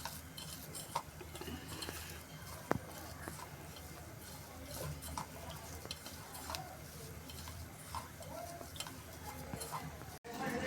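Potato and pea paratha filling being stirred and mixed with amchur and chaat masala, a soft steady scraping and clinking of utensil against bowl, close and continuous, with faint voice-like murmur in the background.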